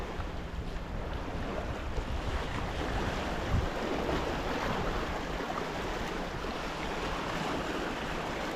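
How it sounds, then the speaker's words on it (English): Steady wind roars at a rocky seashore during lure fishing for bass, buffeting the microphone over continuous surf noise with no talking. "Wind's pretty much in my face."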